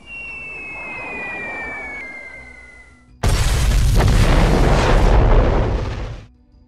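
Bombs from B-17 Flying Fortress bombers exploding, a loud broadband blast that roars for about three seconds and then cuts off abruptly, following a quieter stretch with a falling whine.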